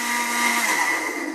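A blender spins chopped one-inch cattail pieces in water for papermaking, a loud, steady whirring motor burst that runs briefly without a break.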